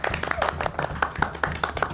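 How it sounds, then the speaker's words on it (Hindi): A small group of people clap in a house, a short burst of uneven hand claps close by with no speech over them. "तुम लोग किस बात की तालियां बजा रहे हो?"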